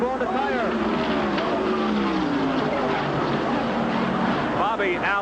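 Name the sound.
NASCAR race car blowing a tire and crashing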